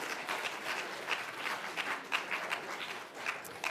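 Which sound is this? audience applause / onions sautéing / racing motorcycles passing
audience applause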